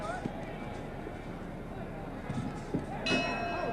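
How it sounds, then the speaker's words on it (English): A boxing ring bell sounds at the end of a round in the 1971 Muhammad Ali versus Jimmy Ellis fight, a bright metallic ding near the end amid steady arena crowd noise and commentary. "And the bell."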